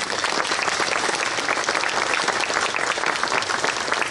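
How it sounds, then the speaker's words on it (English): An audience at a Jadotville memorial ceremony gives a big round of applause, dense continuous clapping held at an even loud level from start to finish. "give them a big round of applause"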